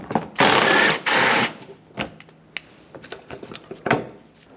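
A ratchet removing an 8 mm headed screw on a 2000-2005 Ford Excursion during front ABS wheel speed sensor replacement: two loud, sustained ratcheting bursts, followed by a scatter of faint clicks and small metallic taps.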